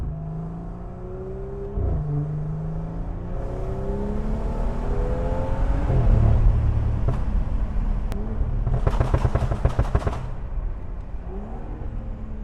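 BMW 535i fitted with a full exhaust build, driven on a cold day: a steady engine drone with harmonic revving that rises and falls, and a louder stretch of acceleration near the end, heard from inside the car with no talk.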